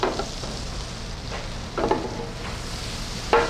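Butter sizzling and frying in a very hot, smoking sauté pan while cooking pompano, a steady crackling hiss with a few louder spattering bursts, heard alone without talk.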